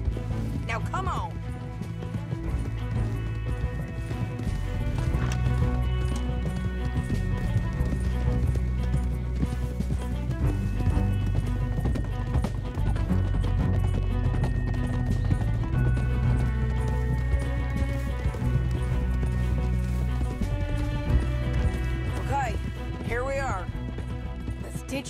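Horses gallop in Red Dead Redemption 2, a steady clip-clop of hooves running under a thick musical score and spoken dialogue, with a brief whinny near the end.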